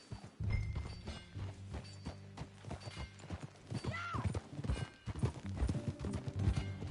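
Horse hooves clip-clop in a steady walking rhythm in Red Dead Redemption 2, with a brief whinny partway through and some faint background music.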